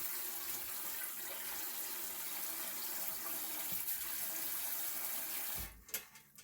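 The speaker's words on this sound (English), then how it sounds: "I will probably rinse these blades off 10 times before I stop." Tap water runs steadily and loudly as mixer blades are rinsed after beating sweet potato pie filling, ending with a few clatters and splashes as the flow is handled.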